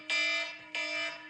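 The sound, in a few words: alarm going off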